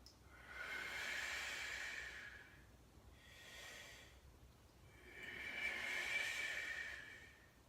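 Slow, deep breaths during a hip and hamstring stretching routine: three long airy exhales, close and soft, spaced a couple of seconds apart in an otherwise quiet room.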